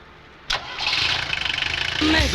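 A car engine cranks and catches after a sharp click, chugging briefly in a rapid stutter before settling into a running idle, heard close by.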